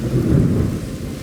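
A hailstorm roars with a heavy, dense low rumble and a wash of pelting noise, loud and close, swelling briefly and then holding steady, with no voices.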